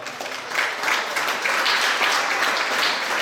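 A live audience gives sustained applause for a junior gymnastics team at a regional gymnastics show, with dense, steady clapping that swells after a brief softer start and fills the hall.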